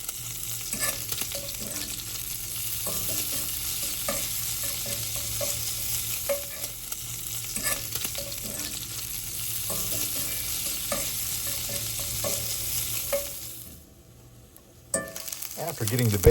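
Small bacon chunks frying in a pan, a constant close crackling sizzle broken by regular scraping stirs of the utensil against the pan, with a short quiet gap near the end.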